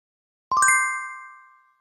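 A bright notification bell ding sound effect: a quick cluster of metallic strikes followed by a clear ringing tone that fades out over about a second, heard alone.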